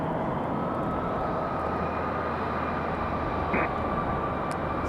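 A jet airliner, a United 737 or an American Airbus A319/A320, moves on the ground at Raleigh-Durham International Airport. Its steady broadband engine roar holds at a moderate distance throughout, with a brief higher tone near the end.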